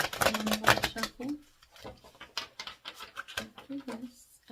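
Cards with writing and color on both sides are shuffled by hand, giving a close, busy patter of flicking and riffling that starts dense, then continues in scattered bursts, with some talking mixed in.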